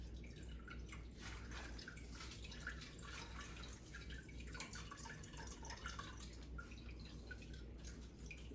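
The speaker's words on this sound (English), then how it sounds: "Squeeze the apples to get all of your juice out" Apple cider vinegar drips steadily from squeezed, strained apples, a run of small wet patters falling continuously over a low background hum.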